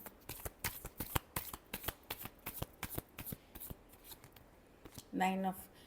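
A deck of cards riffled and shuffled in rapid, crisp bursts of close fluttering clicks, followed by a brief spoken word near the end.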